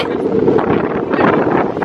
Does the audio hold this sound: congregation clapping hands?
no